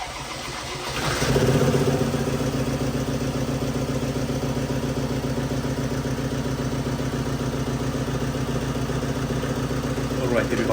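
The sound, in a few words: Ford Transit Custom 2.2 TDCi engine starting and running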